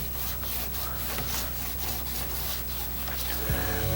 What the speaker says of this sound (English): A little bit of excess glue to clean up.